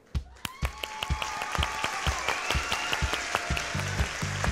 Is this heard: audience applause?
yes